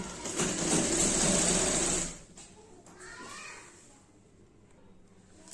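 A sewing machine runs in a fast, steady whir for about two seconds while stitching elastic onto a palazzo made from an old saree, then stops, followed by light handling noises and faint voices.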